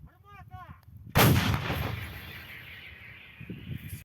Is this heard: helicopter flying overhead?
no